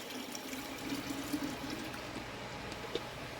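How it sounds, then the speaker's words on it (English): A goat milk cheese mixture is poured over a kitchen sink, giving a soft continuous stream of liquid splashing at close range, fairly faint and steady for a few seconds with no talk. "So we're going to pour it in here. I'm going to pour it over the sink"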